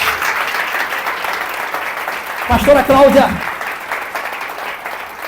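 A church congregation claps together in a short burst during a service, rising under the preacher's voice, which continues over it before and after.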